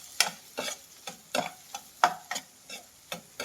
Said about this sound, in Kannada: ಇಲ್ಲಿ ಅರಿಶಿನ ಹಾಕಿದ ಮಿಕ್ಸ್ ಮಾಡಿ